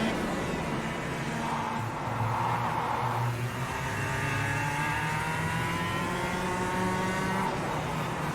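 Several kart engines race in the KartKraft sim, a steady high buzzing drone with rising and falling pitch as the karts rev and pass one another, loud and continuous throughout with no talk.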